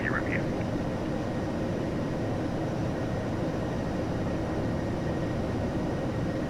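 A simulated airliner takes off in FSX Steam Edition, a steady loud engine roar filling the whole stretch with a faint voice breaking in briefly.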